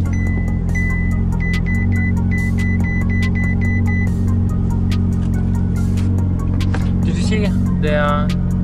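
The engine of a wrecked 2018 Ferrari 488 GTB runs at a steady, close, rumbling idle throughout. Scattered clicks and brief high chirps sit over the engine.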